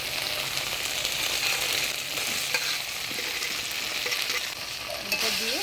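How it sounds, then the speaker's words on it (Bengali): Elephant foot yam being stir-fried with spice paste in a pan: a steady, close sizzle with scraping spatula strokes throughout, no voices. "মশলার সাথে ওল দিয়ে ভালো করে কষা নিলাম"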